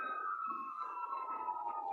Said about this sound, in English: You'll have to pardon the sirens in the background.